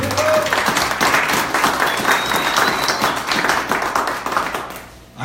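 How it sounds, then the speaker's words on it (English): A presentation audience breaks into steady, loud applause, dense clapping sustained throughout before cutting off at the end. "And I want to give them a round of applause,"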